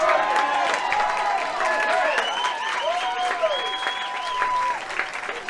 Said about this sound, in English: So a nice big generous round of applause from the crowd in the stand